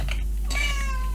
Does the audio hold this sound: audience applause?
no